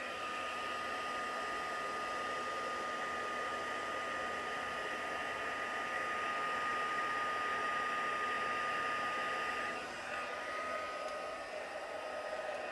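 A heat gun blows a steady, even whoosh of hot air while heat-setting gold embossing powder, holding a constant level throughout with only a slight change near the end.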